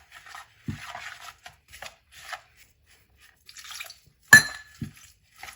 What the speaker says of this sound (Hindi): अब पानी डाल के इसको मिक्स करते जाएंगे।